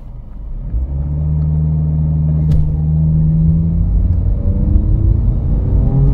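A 2021 Honda HR-V Sport AWD pulls away under acceleration through its CVT, a steady engine drone and low road rumble rising slowly in pitch, close and continuous throughout.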